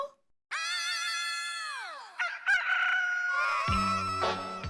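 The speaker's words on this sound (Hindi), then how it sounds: "तुम्हें मुर्गी की आवाज आई अभी?" A rooster crows once, loud and close, a long drawn-out call that trails off, followed by some clattering and a brief clucking sound.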